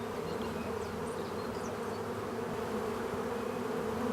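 Steady, continuous buzzing of bees, a dense droning hum that carries on evenly throughout with no voices.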